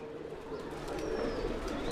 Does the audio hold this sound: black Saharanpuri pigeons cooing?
yes